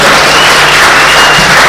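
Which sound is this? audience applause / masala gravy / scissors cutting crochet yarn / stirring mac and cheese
audience applause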